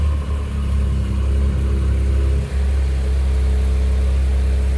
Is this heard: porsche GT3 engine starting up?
yes